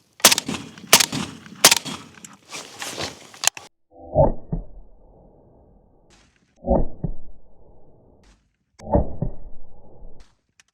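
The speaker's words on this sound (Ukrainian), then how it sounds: "По нашому мішку відбудеться три постріли." AK-74 rifle fire striking a sandbag packed with crushed stone: a dense burst of sharp, loud cracks opens, then three separate heavy shots land a couple of seconds apart, each leaving a short ringing decay.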